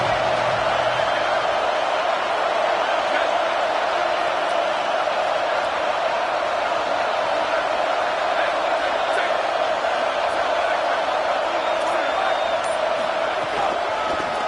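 A football stadium crowd roars steadily throughout, a dense, constant wall of cheering for the home defense trying to make a red-zone stop, heard at a distance with no break.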